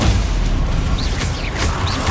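A Confringo fire spell blasts during combat in Hogwarts Legacy, a steady roaring burst with whooshing magical swells and low rumble layered over game ambience, with no talk.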